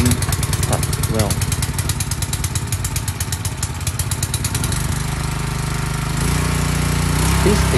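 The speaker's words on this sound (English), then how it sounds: "So when I plug out the oil sensor, the machine starts well." An Ogawa 7HP high-pressure engine pump runs loud and steady, its dense rapid mechanical chatter continuing throughout, with a slight shift in tone near the end.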